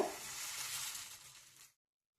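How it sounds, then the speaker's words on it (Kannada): Watery dosa batter, made with watermelon rind, sizzling as it hits a hot pan: a loud, steady hiss that fades slightly and stops abruptly, with no talking. "ನಾ ದೊಡ್ಡದು ಹಾಕ್ತೀನಿ, ನೀವು ಚಿಕ್ಕ ಚಿಕ್ಕ ಹಾಕೊಂಡು ಮಾಡ್ಕೊಳ್ಳಿ ದೋಸೆನ"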